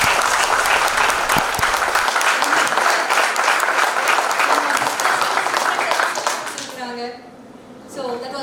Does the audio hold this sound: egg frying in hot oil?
no